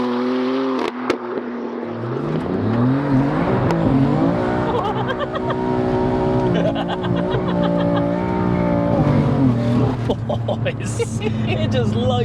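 An 850bhp BMW F80 M3 spinning its tyres, engine revving hard with rising and falling pitch as the tyres squeal continuously, loud and close for around ten seconds.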